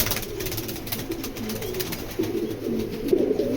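A black checker female pigeon coos close by, giving soft, low, wavering murmurs in a few repeated phrases.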